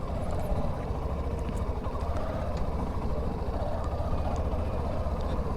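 Hero Glamour Xtec 125 motorcycle ridden off-road, its steady engine drone continuous and fairly loud with rough low rumble throughout, no speech.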